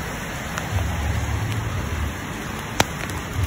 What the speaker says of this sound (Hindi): यहाँ बारिश हो रही है ना